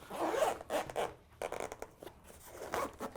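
The zipper on an archery recurve bow bag is pulled in several quick rasping strokes, close up, with short pauses between pulls.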